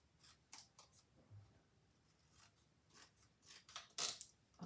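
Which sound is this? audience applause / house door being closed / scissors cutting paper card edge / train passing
scissors cutting paper card edge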